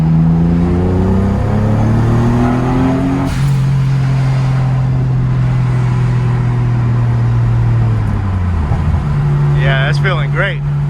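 A Nissan 240SX engine pulls hard in second gear while drifting, with a loud, droning tone that climbs, holds high and steady, then dips and rises again near the end.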